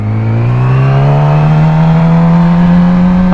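A motorcycle pulls away in first gear as the clutch is eased out with a little throttle, its engine a loud, close, steady drone that rises slowly in pitch.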